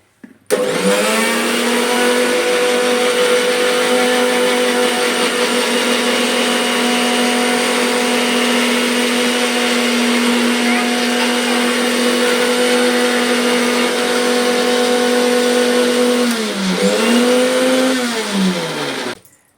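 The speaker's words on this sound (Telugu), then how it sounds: "ఇప్పుడు దీన్ని కూడా మిక్సీ పెడదాం" A mixer grinder blends flowers for homemade Holi colour, running steadily and loudly with a constant motor whine for nearly the whole stretch, briefly dipping in pitch near the end before stopping.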